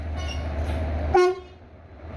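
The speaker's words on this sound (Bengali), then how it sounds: "আমাদের ইঞ্জিন আসছে আস্তে আস্তে" A locomotive engine from the Santragachi loco shed creeps in to couple with a train at Shalimar station, a low idling rumble broken by one short, sharp horn toot before quieter yard noise.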